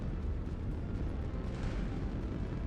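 Bombs and rockets exploding in a video game space battle, a dense continuous roar of overlapping booms and rumbles, loud and sustained without pauses.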